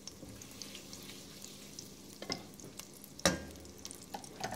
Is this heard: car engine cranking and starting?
no